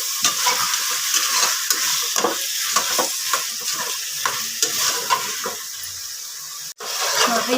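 Potatoes and beans for a hotel-style pulao cook in a pan, a steady close sizzle broken by repeated scraping stirs, alone with no voices.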